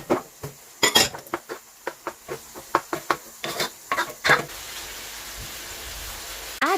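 Shrimp pieces tossed into a pan with garlic and onion for sotanghon guisado, giving a run of sharp utensil clinks and scrapes against the pan, then a steady soft sizzle.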